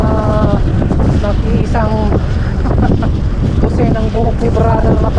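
Strong wind roars into the microphone at night in Punggol Park, loud and constant, with several people talking over it.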